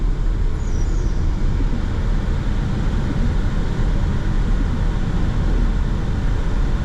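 A 2024 Peugeot 3008 hybrid coasts off the throttle while switching into charge mode, giving a steady, even cabin rumble of road and tyre noise with little engine sound and no voices.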